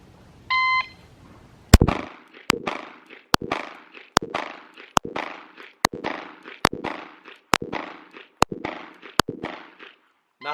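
A shot timer beeps once, then a Glock 19 Gen 5 pistol fires about ten sharp, loud shots in steady succession at shooting practice, each crack ringing briefly before the next.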